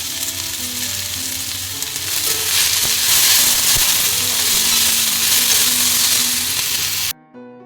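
Onions sautéing in a hot pan for a dry fish thokku: a loud, steady hiss of sizzling oil with a few stirring knocks, close up, stopping abruptly near the end.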